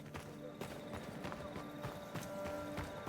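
Horse hooves clip-clop in a steady walking rhythm inside a video game set in a city, mixed with a constant background bed of game ambience and music.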